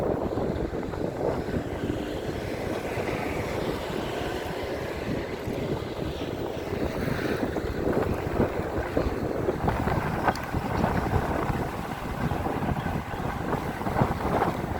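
Steady wind buffets the microphone during a ride on an EMX Xtreme dual-motor 60V electric scooter, with a constant low rumble and roar, gusting slightly stronger toward the end, no voices.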